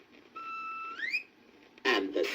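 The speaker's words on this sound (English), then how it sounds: "He blew the whistle," A magic whistle is blown: a clear, bright whistle tone holds steady, then slides upward before cutting off, followed by a short burst of noisy sound.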